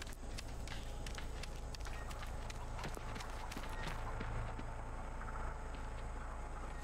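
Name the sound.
footsteps in the video game The Texas Chain Saw Massacre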